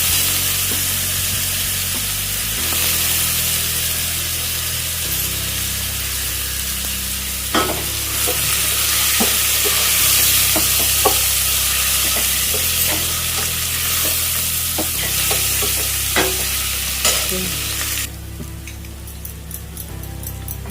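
Onion pieces fry in a pan with a steady, loud sizzle lasting throughout, broken by scraping stirs and clinks of a utensil; no one speaks.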